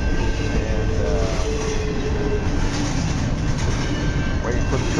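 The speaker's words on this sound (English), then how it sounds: "waiting for the train to go by." A train rolls past a city park, a loud, continuous rumble close by with rattling wheels and faint metallic squeals running throughout.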